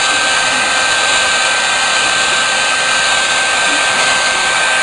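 A heat gun blows a loud, steady, unbroken whoosh while shrinking heat-shrink tubing over a submersible pump's wire, holding a constant airy roar close to the microphone throughout.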